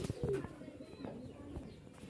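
Pigeons coo softly at a pigeon market, a few brief low warbling calls against a quiet room with faint rustling.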